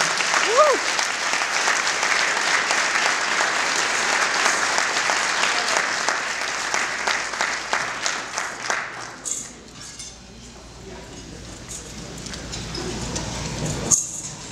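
Warm crowd applause for two speakers being introduced at an evening event, full and steady at first, then thinning into scattered claps and fading out near the end.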